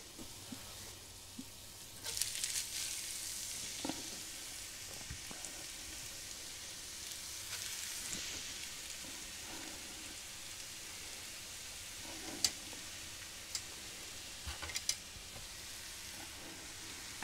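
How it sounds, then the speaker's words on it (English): Steady soft frying sizzle of potatoes for hash browns in a hot pan, faint and continuous, with occasional light clicks and taps from a utensil against the pan. "There's the sizzle."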